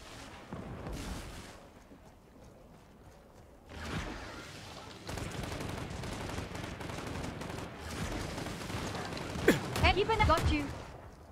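Gunfire in a PvPvE team shooter video game, with bursts and single shots at varying distances, some whooshing effects and a loud burst near the end, mixed under a voice talking.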